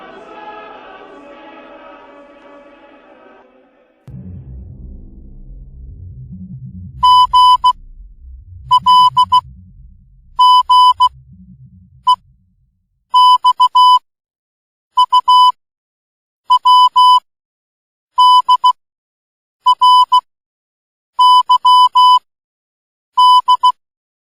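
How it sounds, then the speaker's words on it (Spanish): Beeping Morse code message in a recording, a steady tone sounding in rhythmic bursts of short and long pulses, loud and clear, following a stretch of low muffled noise. "Al final de ese audio se escuchaba claramente un nuevo mensaje en código Morse"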